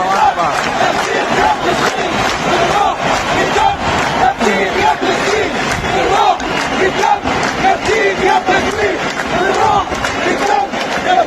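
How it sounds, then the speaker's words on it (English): Dense stadium crowd chanting in unison in support of Palestine at the 2022 FIFA World Cup in Qatar, a loud, continuous roar of massed voices with rhythmic swells throughout. "crowds sang the words, "With spirit and blood, we will redeem you,"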